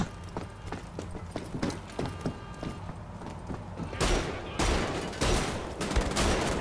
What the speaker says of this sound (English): don't use a shotgun in here